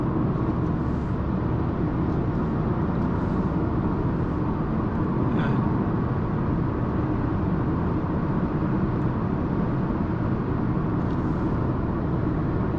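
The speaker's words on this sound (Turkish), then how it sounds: "Lastik sesi ve yol sesi şu anda muazzam." Steady, loud tire roar and road noise fill the cabin of a Hyundai i20 on a long drive, a continuous broadband rumble with no gaps and no talk.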